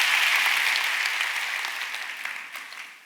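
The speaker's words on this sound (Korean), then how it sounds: "카메라맨들 우리 특별히 좀 박수 한번 다시 칠까요?" A church teachers' conference audience applauds the camera crew, dense steady clapping that starts loud and gradually fades over about three seconds, with no voices over it.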